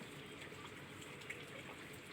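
Floodwater from a swollen river near Bamti village rushes over a bridge during heavy monsoon rain, a steady broadband roar of gushing water close by, continuous with no voices.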